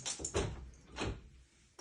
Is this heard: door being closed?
yes